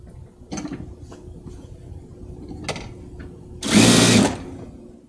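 A Titan 8700D sewing machine stitches through two layers of denim. Short mechanical whirs and clunks come first, then a loud, fast burst of high-speed stitching lasting about half a second.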